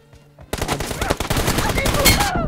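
Rapid bursts of automatic gunfire from a mobile shooter game start abruptly and continue loudly and densely to the end, with a game voice or tone faintly underneath.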